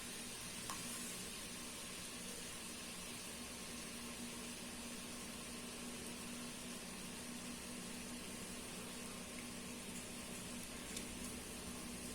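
Continuous crackling sizzle of boondi batter frying in hot ghee, steady and even throughout with no talking.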